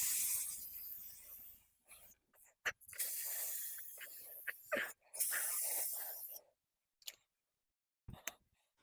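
Brake cleaner sprayed onto a Ford E-series or F-series truck brake rotor to strip grease and oil during a wheel seal job: several close, loud hissing bursts of aerosol spray separated by brief silences.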